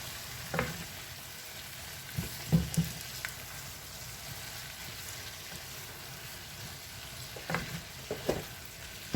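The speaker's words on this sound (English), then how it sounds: "Toss that up really good. I do my green beans in butter." Blanched green beans sauté in butter in a pan, giving a soft, steady sizzle with a few louder stirring clatters scattered through, and no talking.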